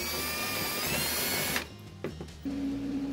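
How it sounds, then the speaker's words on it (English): A power drill bores through the frame of an Argo Magnum amphibious vehicle, guided by square steel tubing. A loud, steady whine runs close up for about a second and a half, then cuts off, leaving a few quieter clunks. "drill out the frame on the Argo"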